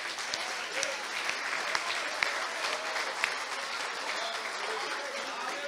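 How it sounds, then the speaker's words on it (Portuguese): A church congregation applauds steadily through a worship service, with a scattering of sharper individual claps over dense, fairly distant clapping and some voices mixed in. "Você consegue aplaudir ao Senhor pela palavra?"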